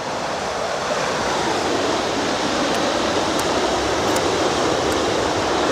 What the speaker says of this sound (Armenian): Գետը վարարել է